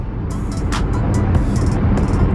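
Truck passing on a road, a loud steady engine and tire rumble close by with a few higher hissing bursts over it.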